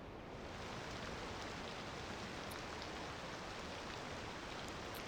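Steady rain hisses in the city-building video game Cities Skylines 2, a soft, even wash of falling water with no breaks, quiet and uninterrupted throughout.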